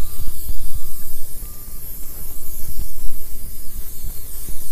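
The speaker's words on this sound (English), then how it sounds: "We're gonna use the aerosol Quick Shot from High Tech. Just spray it on generously, let it soak in." High Tech Quick Shot aerosol tire dressing sprays onto a tire, a loud, close, steady hiss that pulses slightly as the can is swept across the rubber, with no talk.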